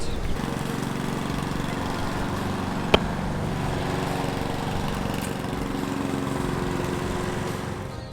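A riding lawn mower's engine runs at a steady, even drone close by, holding one note throughout, with a single sharp click partway through.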